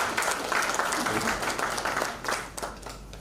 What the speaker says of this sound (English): Another round of applause, please, for the special guest of honor.